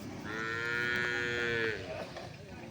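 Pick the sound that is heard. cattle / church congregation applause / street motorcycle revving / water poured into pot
cattle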